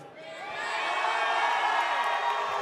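Crowd cheering for Golden Boy at an esports grand final, NRG vs G2 at Red Bull Home Ground, a sustained roar of whoops and shouts from a large audience, steady and loud throughout.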